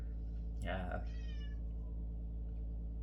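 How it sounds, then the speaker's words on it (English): A single short cat meow from outside a room door, faint and a bit distant, over a steady low hum. "My cat wants in my room. Can you hear him?"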